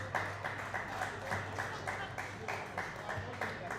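Sparse applause from a few Mets fans, a thin patter of separate hand claps in a loose, uneven rhythm, quiet and nearby, with no one speaking over it.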